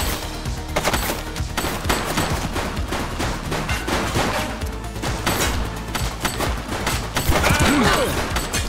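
Heavy, continuous gunfire from the video game The Precinct pours out in dense, overlapping automatic bursts that stay loud and close the whole way through, mixed with crashes and impacts.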